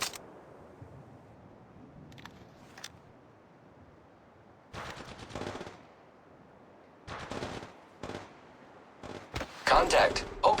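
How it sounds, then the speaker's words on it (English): Gunfire in the battle royale game Apex Legends, with sniper and pistol shots: separate sharp bursts spaced between quiet stretches, the loudest cluster near the end, with in-game voice lines in places. "Contact. Opening fire on the enemy."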